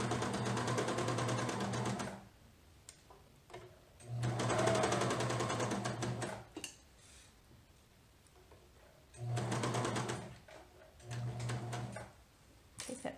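A sewing machine stitches a sleeve seam in bursts, its rapid mechanical whir running for a couple of seconds at a time, then pausing in near quiet before starting again.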